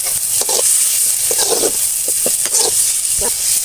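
Tomatoes seasoned with salt sauté in a pan for a chutney, giving a soft, steady sizzling hiss broken by several short bursts of stirring.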